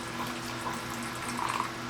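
Water runs steadily into canning jars packed with ground beef, topping them up before pressure canning; a continuous close trickle and splash, heard alone.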